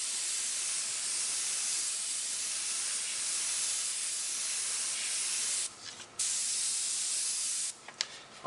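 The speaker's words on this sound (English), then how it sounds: "I'm going to spray white across the top edge of that." White spray paint hissing from an aerosol can onto a semi truck mural, a steady close continuous spray that stops briefly twice near the end.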